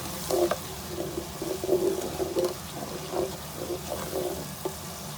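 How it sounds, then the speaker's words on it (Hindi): Spice paste of salt, ground red chili and turmeric fries in a pan with a splash of water for kofta curry, a soft, steady sizzle broken by brief stirring and scraping sounds. "थोड़ा सा पानी डाल के मसाले को भून लेते हैं।"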